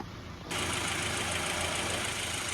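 A 2010 Subaru Forester engine idles steadily at close range, a constant low hum with a broad hissy wash of noise rising sharply just after the start and holding even throughout.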